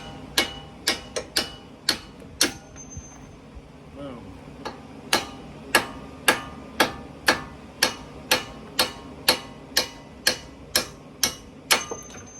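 Metal hammer blows knocking out splined bolts while installing lowering springs on a Ford Explorer ST: about twenty sharp, close strikes in a steady, even rhythm, loud and ringing over faint background noise.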